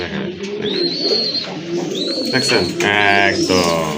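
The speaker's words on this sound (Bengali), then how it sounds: "এটা হচ্ছে আপনার নর কবুতর। আর এই যে এখন দেখবেন মাদি কবুতরটা" A pair of pigeons, one male and one female, coo in overlapping low calls, close and steady, with higher chirps and sharp tones breaking over them.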